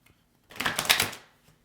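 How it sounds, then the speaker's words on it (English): A brief riffle of tarot cards being shuffled, a quick close flutter lasting under a second, then quiet. "One more shuffle."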